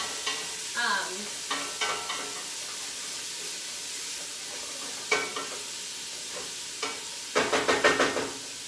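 Lentils stir-fried in an oiled pan over high heat give a steady loud sizzle, broken by scraping stir strokes that come in short bursts and a dense clatter near the end.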